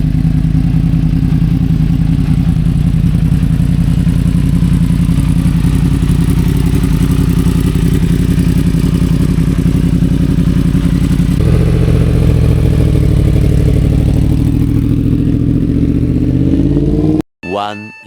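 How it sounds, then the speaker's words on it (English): A 2018 Yamaha MT-10 motorcycle runs loud and close with a steady engine drone, shifting pitch partway through as it pulls away on a test ride, then cuts off abruptly at the end. "2018 MT-10. Ellie's gonna take it out for a test ride right now."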